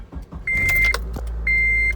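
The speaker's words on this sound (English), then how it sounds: "turn it off, and we'll turn the car back on" A 2003–2011 Honda Element is switched back on: a short clunk and jangle of keys, then a sustained electronic chime tone, a brief pause, and the chime again over a low engine hum.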